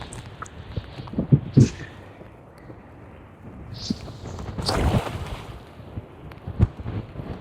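Strong wind gusts buffet the open air beside a small stream in Taiwan, a rough rushing roar that swells and fades, with a few sharp knocks and thumps scattered through it.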